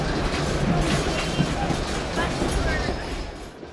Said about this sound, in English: At Gulch, the train passes Old Bridge number 18A